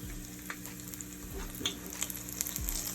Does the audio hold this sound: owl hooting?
no